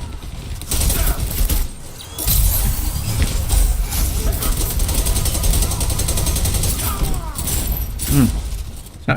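Shotgun fire in the video game Dirty Bomb, with loud, punchy blasts over a dense, busy mix of combat noise and game sounds.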